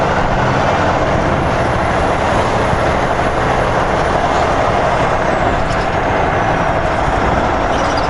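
A truck with a brand new starter drives off, its engine and road noise a loud, steady low rumble throughout, with no talk.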